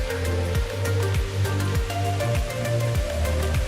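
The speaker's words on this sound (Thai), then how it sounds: "ตรงนี้ก็จะเป็นถ้ำจำลองนะครับ ก็จะมีน้ำตกไหลมาจาก ด้านบนนะครับ" Artificial waterfall in a replica cave at a Thai temple, water falling from above near a sacred pond, giving a steady, full rushing wash with a low churning rumble, close and continuous with no speech.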